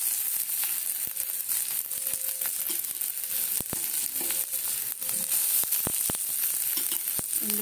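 Garlic, ginger and onion fry in a little mustard oil in a wok, giving a steady, close sizzle with scattered crackles and light clicks of stirring throughout, no voices.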